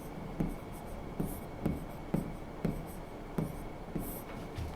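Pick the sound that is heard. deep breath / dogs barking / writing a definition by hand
writing a definition by hand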